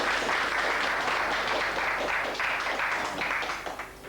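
A crowd claps steadily for several seconds, a dense patter of hands that fades slightly near the end.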